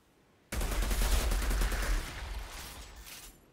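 A gun being test-fired in the looter shooter Outriders erupts abruptly into a dense, loud burst of rapid shots that runs for about three seconds, then tails off into echo.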